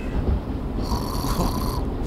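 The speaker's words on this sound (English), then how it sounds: "You're snoring away there." Person snoring in a hotel room, a loud rumbling snore up close that carries on through the moment, with no talk over it.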